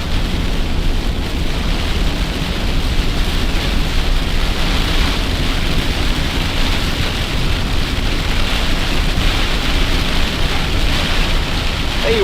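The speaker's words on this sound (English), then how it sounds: "Heavy rain." Heavy rain pours down during a thunderstorm in Illinois, a dense, loud, unbroken roar of water.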